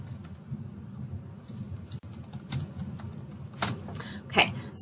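Typing on a computer keyboard, a steady run of light clicking keystrokes up close, with a low background hum and a few louder key hits toward the end.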